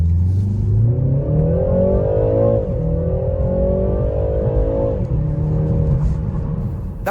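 A BMW 330i G20 LCI with the B48 engine launches from standstill, its loud rising engine note climbing through the gears with two brief dips at the shifts and pulling hard throughout, no talk.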